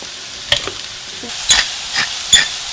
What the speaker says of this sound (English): I've got some water boiling in here.